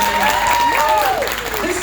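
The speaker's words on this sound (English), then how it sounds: "Can we have a big round of applause?" An audience bursts into applause after a film screening discussion. The clapping is steady and full for about two seconds, with a voice and a thin tonal sound running over it.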